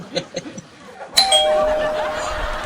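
A doorbell chimes once at a home entrance, its bright ringing tones sustained and fading over a couple of seconds after some quiet background voices.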